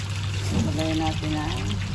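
Water pours and trickles into a container to soak eggplant in a kitchen, a brief gentle stream over a low background hum.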